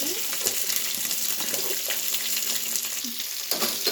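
Onion and green chillies fry in a pan with a continuous close sizzle and hiss, broken by light scraping clicks from stirring, no talking.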